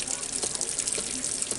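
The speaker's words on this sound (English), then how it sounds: "Why is there so much water coming out when you already drained it?" Water gushes out of the drain of an RV hot water tank in a steady, close, hissing stream during an anode change, with no pause across the short stretch.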